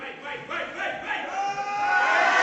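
A crowd at a women's 69 kg powerlifting championship cheers for a deadlift attempt, with sustained shouting and whooping that keeps building, loud and continuous.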